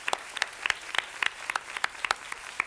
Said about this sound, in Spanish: No, pues un aplauso.